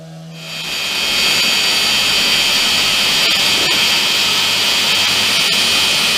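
A power sander whines steadily and loudly against wood cladding on a homemade cyclekart in a small shed. It spins up within the first second and then runs at a constant hiss, with no one speaking.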